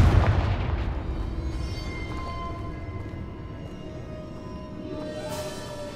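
Confringo blasting curse explosions in the Hogwarts Legacy video game: a heavy booming blast up front that rolls off into a long rumbling decay, then a smaller burst near the end.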